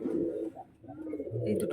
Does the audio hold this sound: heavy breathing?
no